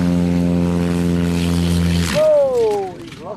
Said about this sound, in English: This plane's landing gear retracted while taking off from a grass field.